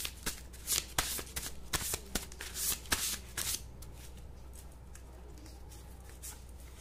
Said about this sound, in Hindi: कार्ड नेक्स्ट शफल कर लेती हूं मैं